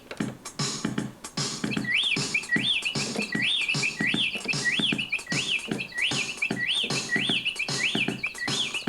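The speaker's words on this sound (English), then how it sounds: "See if we can get the birds." Sampled bird chirps, a bright rising tweet repeated steadily about every half second, ride over a loud, busy drum kit beat as part of a musical arrangement.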